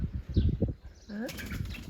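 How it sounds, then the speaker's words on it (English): Startled chickens burst into a brief flurry of flapping wings near the end, preceded by low rustling and faint bird calls, close by and fairly loud, with a soft murmur of talk at the start. "the birds are panicking a little bit"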